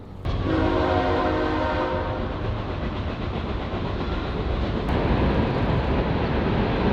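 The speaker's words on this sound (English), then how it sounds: "The train just went by and it like came by blaring its horn" A train passes close by, sounding its horn in a loud sustained blast over the steady roar and rumble of rolling wheels.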